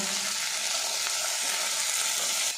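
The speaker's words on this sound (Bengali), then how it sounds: "এবার এর মধ্যে কেটে রাখা সবজিগুলো দিয়ে দেব একটু নাড়াচাড়া করে নেব" Chopped vegetables hitting hot white oil in a pan and being stirred, a loud, dense, continuous hiss of frying close up.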